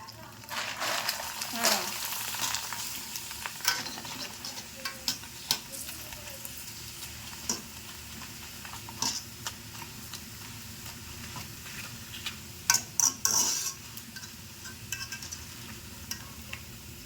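Papads fry in very hot oil, a steady soft sizzle with intermittent splashes and stirring clatter, close but fairly quiet, while a person talks over parts of it.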